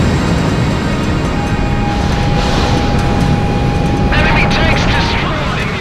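Aircraft engine in a combat flying video game: a loud, steady roar that drones on unbroken throughout, with a thin high whine and brief rushing swells near the end.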